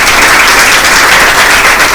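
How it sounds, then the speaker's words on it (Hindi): Loud, sustained applause from a large crowd, dense clapping filling the whole moment without pause. "तो आप लोगों की भरपूर तालियों में जैज़बर आशिक साहब।"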